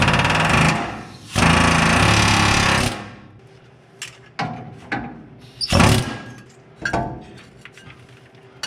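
A punch is hammered to drive out a leaf spring bolt on a spring pack: two long, loud rattling bursts, then a series of separate metallic strikes of varying force.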